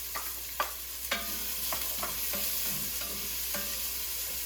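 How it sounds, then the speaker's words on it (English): Chopped onions hitting a hot soup pot for chicken soup, with a few sharp sizzling bursts as they land and stirring scrapes over a steady frying hiss, close and moderately loud. "I like to have that really nice sizzle when I add them in."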